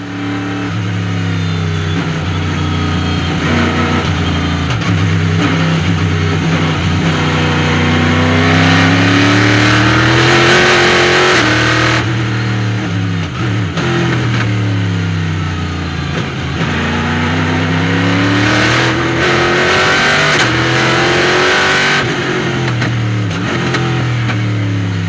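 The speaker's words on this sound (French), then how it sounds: "On embarque avec Hernandez dans le premier tour de course." Onboard engine of a Porsche GT3 Cup race car on the first racing lap at Ledenon, loud and close, revving hard through repeated upshifts and downshifts with rising and falling pitch throughout, no voices.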